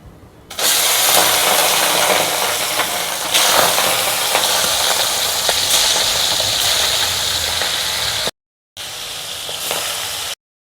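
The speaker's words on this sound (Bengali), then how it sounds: "তেল গরম হয়ে গেছে, এখন দিয়ে দেবো চিংড়ি মাছ" Prawns hit hot oil in a wok with a sudden loud burst of sizzling that holds steady and dense, briefly cutting out near the end before resuming.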